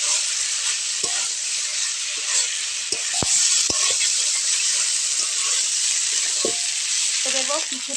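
Fried potatoes and okra go into a frying poppy-seed masala, making a constant hissing sizzle with a few sharp clinks and scrapes of a spoon against the pan, with no voices over it.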